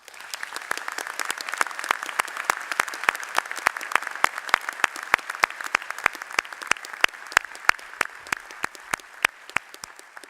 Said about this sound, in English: I think you all deserve a loud round of applause.